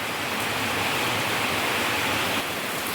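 Rainwater from heavy rain rushes steadily without a break through a farm field, a dense, even wash of sound with no voices.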